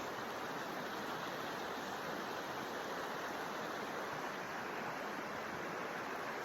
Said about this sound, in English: here's my creek